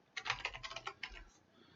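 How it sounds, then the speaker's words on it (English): Quick bursts of keystrokes on a computer keyboard, soft and close, typing out a short entry in about a second and a half. "we'll type that in right now."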